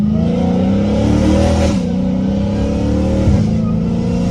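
A Dodge Challenger Hellcat Redeye accelerates hard with a loud, rising engine roar, broken by two quick gear shifts where the pitch drops before climbing again.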